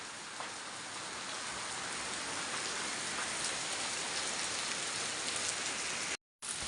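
Steady rain pouring after a hailstorm, a dense continuous hiss of drops on surfaces that holds constant throughout before cutting out abruptly near the end, with no voices.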